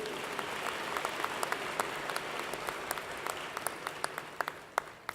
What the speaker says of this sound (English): How about a round of applause for our trustees?